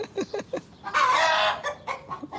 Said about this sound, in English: Did you see that rooster over there?